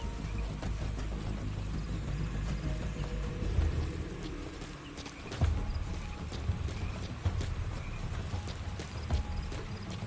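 Horse hooves clip-clopping in Metal Gear Solid V: The Phantom Pain, a steady trotting rhythm at moderate distance, fairly quiet under ambient game sound with no talking.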